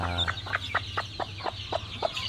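Newly hatched chicks give a steady series of high, thin peeps, about ten in quick succession, close by over a low background hum, with no talking.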